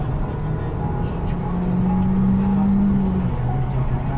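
A 150-horsepower car accelerating with sport mode engaged, steady engine drone rising in pitch heard from inside the cabin, with people talking over it.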